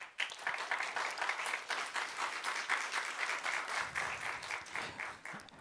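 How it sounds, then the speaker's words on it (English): Audience applause at a library book reading event, a dense, steady wash of many hands clapping close by, holding at an even loudness for several seconds with no talk. "let's again give a round of applause to all of them."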